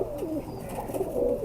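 A female pigeon of a thud-type breed gives a couple of short, soft coos close by, the throaty calls rising and falling over quiet room noise.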